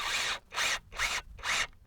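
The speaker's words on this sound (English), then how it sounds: "So we're really screwing into something solid here." A power driver sinking screws into solid wood framing behind Azek trim, four short whirring bursts of equal length in an even rhythm, separated by brief silences, close and fairly quiet.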